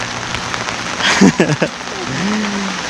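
Steady heavy rain hisses across the whole clip in Baguio, with a few louder thumps and knocks midway and a faint voice underneath.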